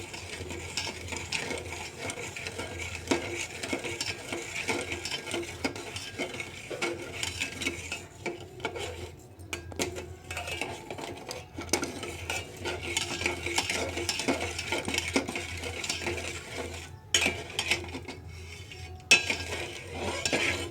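A spoon stirs sugar in a pot as it melts, making continuous close scraping and clinking against the metal, with brief pauses between bursts of stirring and no voices.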